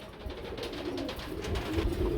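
Oman teddy pigeons at a pigeon sale, soft repeated cooing close by, a low rolling coo that continues steadily over faint background noise.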